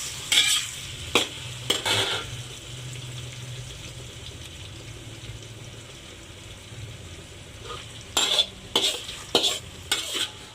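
Seeds sputtering in hot oil as aromatics start, a low crackling sizzle broken by clusters of sharp utensil scrapes and clinks at the start and end, close and moderate.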